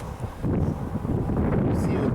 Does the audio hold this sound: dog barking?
no